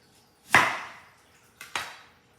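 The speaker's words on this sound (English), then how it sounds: "cut this in half" A knife slicing an onion in half on a cutting board, one sharp crunching cut with a short decay, then a quieter double tap a second later.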